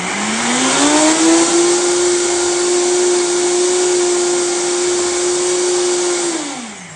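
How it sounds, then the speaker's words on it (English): A vacuum blender's steady motor whine rises quickly in pitch while blending a pomegranate green smoothie, holds a constant loud drone for several seconds, then winds down at the end. "We're gonna blend this up real quick."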